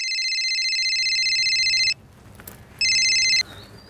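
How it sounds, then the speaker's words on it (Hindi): A telephone rings loudly and up close, a long electronic trill that stops and then sounds once more briefly, with a quiet room between the rings. "फोन किया था उसने मिलिंद को"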